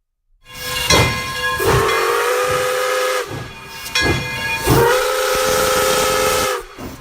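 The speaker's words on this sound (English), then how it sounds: "We need to add a train sound to our Go XLR." A steam train whistle sound effect blows in several long, loud, shrill blasts with short breaks between them, its hissing tone standing alone.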